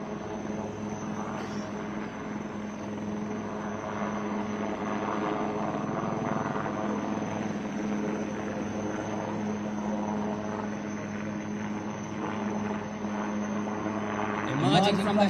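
An Indian Navy helicopter hovers steadily during a Marine commando slithering demonstration at a Navy Week event, its rotor and engine drone continuous and fairly loud throughout, with a brief louder swell near the end.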